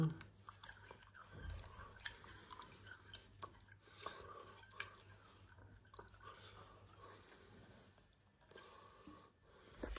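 Soaked chickpeas chewed close to the mouth, a faint, soft mashing and wet squishing that runs on quietly for several seconds over a low background hum.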